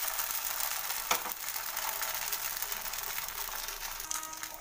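Rice batter for chitoi pitha goes into a hot pan, giving a soft, even hiss of sizzling throughout with a faint clink partway through.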